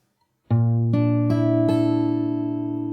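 A fingerstyle guitar chord from the Animal Crossing New Horizons theme, rolled string by string in four quick plucks that ring out together and sustain, close and clear with no talk.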